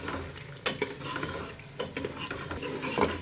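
A spoon scrapes and clanks against a pot as chicken is stir-fried with masala, with several sharp metallic knocks over a soft, continuous sizzle. No one talks.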